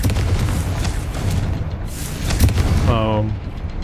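The Confringo fire spell goes off in the video game Hogwarts Legacy with a couple of deep, booming explosive bursts over a rumbling game soundscape, and a voice comes in briefly near the end.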